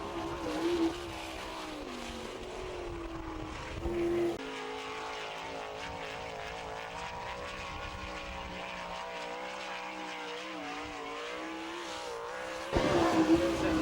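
Sprint cars race on a dirt oval at Attica, Ohio, their engines holding a sustained, loud, high-revving drone with shifting pitch and surges as cars pass, with no talk.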